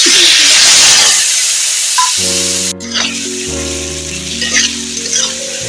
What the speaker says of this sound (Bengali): এইভাবে আমি এক মিনিটের মতো এক দেড় মিনিট ভেজে নেব